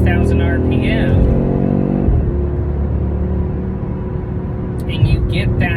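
An Audi RS3 engine revs hard toward 5,000 RPM, a loud, close exhaust note that climbs, then drops off suddenly and settles into a rumbling drone. Someone talks briefly at the start and again at the end.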